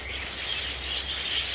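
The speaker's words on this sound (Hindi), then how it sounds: "परिंदों की आवाज़" Morning birds chirp and sing in a steady high, bright chorus over a constant low background hum, continuous and moderately loud throughout.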